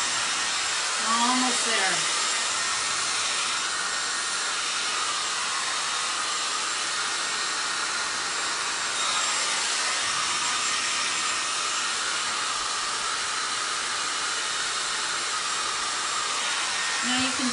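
A hair dryer blows without a break as it dries paint on a craft transfer project. Its steady whooshing roar lasts throughout, and a voice speaks briefly over the noise.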